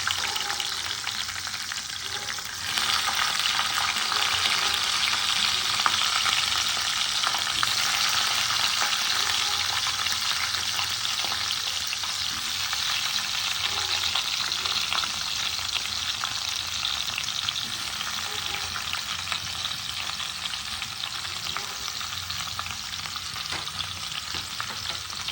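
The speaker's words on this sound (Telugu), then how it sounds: "ఇప్పుడు మనం ఆల్రెడీ కట్ చేసి పెట్టుకున్న క్యాప్సికమ్ పీసెస్ అందులో చేసి ఫ్రై చేసుకుందాం" Capsicum pieces fry in oil in a pan, making a continuous, even sizzle that starts abruptly after a quiet moment and holds steady for a long stretch without talk.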